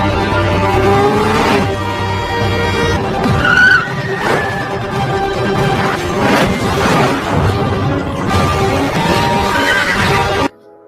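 Film car chase with engines revving hard and tires squealing and skidding through repeated screeching bursts, loud and continuous over a dense soundtrack, cutting off abruptly at the end.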